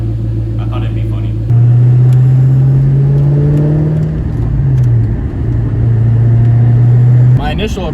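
A 600 hp 1999-2004 Ford Mustang V8 with a new DNA catback exhaust rumbles at idle, then swells into a deep, steady rev with a throaty exhaust note before dropping back, loud and close.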